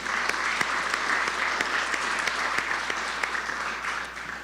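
Polite round of applause from a business awards audience in Plano for a chamber's board of directors, fairly quiet and even, with a few sharper individual claps standing out before it tapers near the end.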